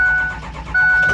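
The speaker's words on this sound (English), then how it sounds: "we're gonna pull the truck in the shop" Engine of a blue Ford F250 pickup truck rumbling close and loud as it is started and pulled into a shop on a hot, humid day in Arkansas, with a steady mid-pitched drone and a slight rise near the end.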